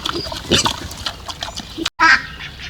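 A Vietnamese pot-bellied pig on a forest farmstead grunts and squeals repeatedly, loud and close, in a busy, uneven series with no talking.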